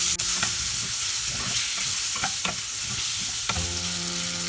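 Mango pieces with turmeric fry in a pan for Bengali aam daal, giving a steady close sizzle punctuated by occasional scraping stirs and clinks, with no voices.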